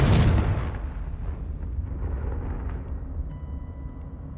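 Confringo blasting spell in Hogwarts Legacy: a single loud explosive burst at the start, followed by a rumbling, crackling decay that fades gradually, with faint tonal game sounds near the end.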